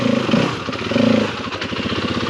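A four-stroke dirt bike engine labours up a rocky waterfall trail in hard enduro riding, its close, throaty drone rising and falling in uneven throttle pulses.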